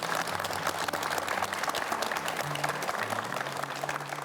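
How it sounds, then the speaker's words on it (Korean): A seated audience at a district office town-hall broadcast in Gwangju applauds in a dense, continuous burst of clapping that holds steady at middling volume throughout, with faint murmurs beneath. "여러분 박수 부탁드리겠습니다"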